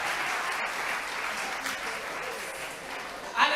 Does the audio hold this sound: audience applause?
yes